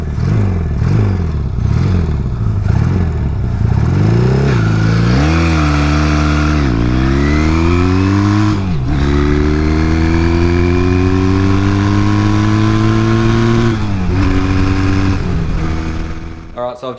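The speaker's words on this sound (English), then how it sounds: "I'll take it for a ride and we'll see how quickly it does 0 to 100 now" Motorcycle accelerating hard from 0 to 100 after a carburetor change, loud engine revving up through several gears with rising pitch sweeps and brief dips at each shift, close and continuous.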